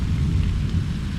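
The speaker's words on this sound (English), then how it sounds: "hear that thunder?" A low, steady rumble of thunder at a resort in Orlando, Florida rolls through the short stretch, with rain-like hiss faintly underneath and no voices.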